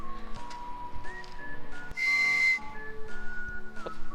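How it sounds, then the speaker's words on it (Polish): A Dartmoor Fury V3 bike stem whistles when air is blown into it, giving one steady high tone of about half a second amid quieter background hum and clicks. "Jak tu się wdmucha powietrze, to da radę gwizdać"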